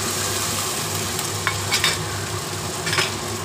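A paste of ground sesame, brain and green chili with ginger-garlic paste, salt and turmeric fries in a pan, a dense steady sizzle broken by a few scraping stirs near the middle and end, no talking.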